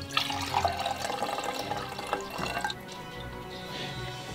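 Pepperoni brine is poured into a smoothie, a close, trickling splash with small drips and gurgles that sits under faint background noise and then settles into a quieter, thinner trickle.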